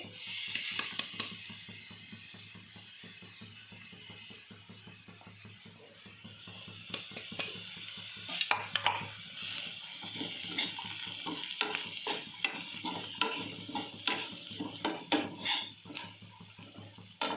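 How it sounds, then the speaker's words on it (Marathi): Chili powder fries in a pan of sautéed onion with a soft, steady sizzle and crackle, punctuated by faint clicks and scrapes, with no one talking. "आता थोडं तिखट तळून घेते."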